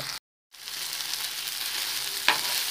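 Cornflour-coated paneer pieces frying in a pan make a steady, close hiss of sizzling oil, broken by a short gap early on and a single faint tap of utensil against pan toward the end.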